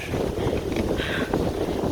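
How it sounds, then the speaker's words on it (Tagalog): Strong wind buffets the microphone on a high mountain in a steady low roar, constant rumbling gusts with no voices. "Sobra pong lakas ng hangin."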